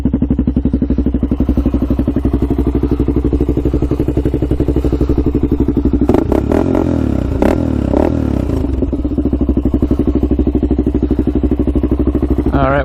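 A Honda 400ex quad idles steadily while warming up, a loud close engine with a constant throbbing rumble and a burst of clattering and thumps midway before settling back to an even idle.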